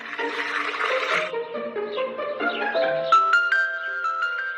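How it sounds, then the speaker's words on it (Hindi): Water drawn from a well splashes and gurgles, then settles into a steady pour into a bottle whose pitch climbs as it fills. "और कुएं से पानी निकाला"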